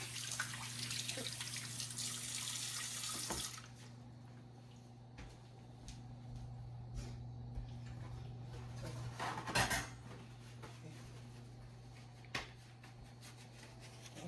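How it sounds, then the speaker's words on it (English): Hands being rinsed under a running kitchen tap while making buttermilk biscuits: a steady stream of water, loud at first, then lower after a few seconds, over a constant hum from the stove, with a few sharp clinks. "Wash the hands off a little bit."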